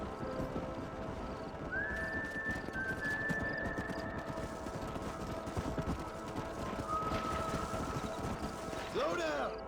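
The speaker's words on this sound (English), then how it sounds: "don't let those horses out of your sight" Horses in the Red Dead Redemption video game move with steady clip-clopping hooves and a whinny near the end, heard under game sounds and brief talk.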